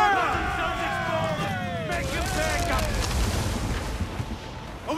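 Ship cannons booming during a naval battle in Assassin's Creed IV Black Flag, a dense run of heavy blasts under shouted crew calls, with voices talking over the barrage throughout.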